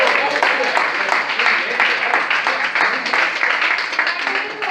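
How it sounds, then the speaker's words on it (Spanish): Congregation at a church Bible study clapping together, a steady dense wash of applause holding at an even level for several seconds with no speech over it. "Hay que dar un aplauso."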